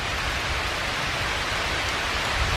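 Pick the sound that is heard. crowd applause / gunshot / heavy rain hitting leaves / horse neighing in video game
heavy rain hitting leaves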